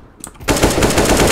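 AK-47 gunfire in the CS:GO game on the Dust II deathmatch map: a few faint clicks, then a loud, close, sustained automatic burst of rapid rattling shots that runs without a break.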